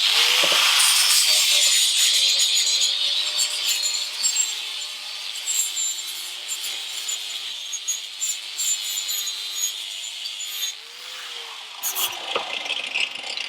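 Rough being taken off a workpiece by hand before it goes into the vise: a steady, close rasping and rubbing that runs continuously with slight rhythmic stroke variations.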